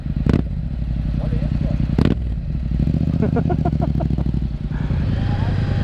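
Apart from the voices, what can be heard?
Yamaha MT-07 motorcycle engine running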